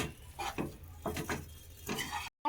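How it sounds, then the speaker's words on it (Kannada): Greens curry with grated coconut being stirred in a pan, a short run of soft scraping and dull knocks from a spoon, close and quiet, cutting off abruptly at the end. "ಈಗ ಮಿಕ್ಸ್ ಮಾಡ್ಕೊಳ್ಳೋಣ"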